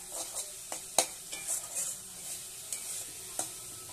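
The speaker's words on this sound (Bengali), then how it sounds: "মশলাটাকে একটু ভেজে নিচ্ছি।" Ground spice paste fries in a wok for a giant prawn head curry, a fairly quiet sizzle broken by repeated stirring scrapes and light metallic clinks at an uneven pace.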